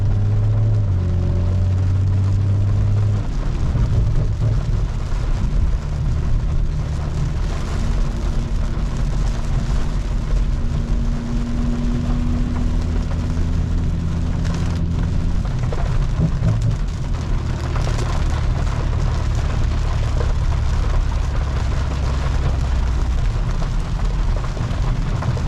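Heavy rain pounds a 700-horsepower BMW M340i being driven through a Miami storm, a dense continuous roar of drops on the car with a low engine and road rumble underneath, steady and loud with no speech.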